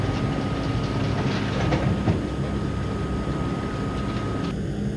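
A Manhattan-bound C local subway train runs in a video game, with a steady loud rolling roar, rhythmic wheel clatter and a faint sustained whine that drops away near the end.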